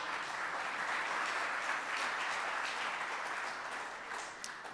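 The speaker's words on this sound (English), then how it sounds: "a huge round of applause to rev her up" Sustained applause from a large audience at the Goafest 2022 event greeting cricketer Mithali Raj, a steady wash of many hands clapping at even loudness throughout, with no speech over it.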